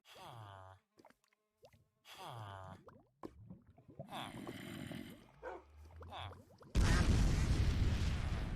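A loud Minecraft explosion bursts in near the end as a dense, broadband roar that follows several seconds of talk, then holds steady, filling the last couple of seconds.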